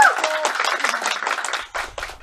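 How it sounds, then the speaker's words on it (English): Applause and clapping from an audience at a charity garden music performance, a dense burst of many hands that thins out toward the end, with a voice briefly audible over it. "So huge round of applause and thanks to these guys."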